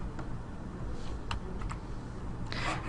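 Typing on a computer keyboard while entering a variable name in maths software, a short run of close, soft key clicks over a steady low background hum.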